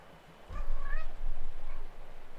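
A cat meows close to the microphone, a drawn-out wavering call followed by a softer second meow over a steady low hum.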